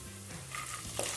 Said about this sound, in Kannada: ಈಗ ನಾನು ಡ್ರೈ ಸ್ಪೈಸಸ್ ಎಲ್ಲ ಇದೆಯಲ್ಲ ಅದನ್ನೆಲ್ಲ ಹಾಕ್ತಾಯಿದ್ದೀನಿ.